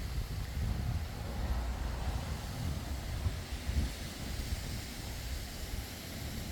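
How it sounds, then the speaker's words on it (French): Strong wind during a heavy storm buffets the microphone at a camper van with a constant low rumble and gusty roar, steady throughout with no voices. "Je sais pas si on va m'entendre avec le vent en fait."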